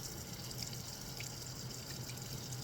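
Water is poured during a cat's bath, a steady, faint trickling splash that runs unbroken throughout with no talking.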